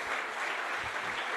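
A French audience at a Paris 2024 presentation with Olympic and Paralympic athletes claps continuously, a dense, even wash of applause that stays loud and steady from start to finish.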